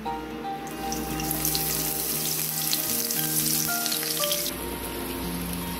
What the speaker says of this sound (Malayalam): അതിനായിട്ട് നമുക്ക് ആ ഉള്ളി ഒന്ന് പൊരിച്ചെടുക്കാം.